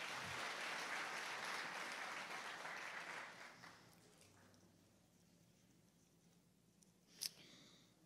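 Church congregation clapping in a broad burst of applause that gradually fades out, followed by quieter room noise and a single sharp knock near the end.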